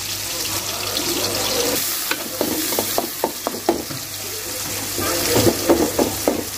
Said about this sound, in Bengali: এখন তেলের মধ্যে পেঁয়াজ কুচি দিয়েছে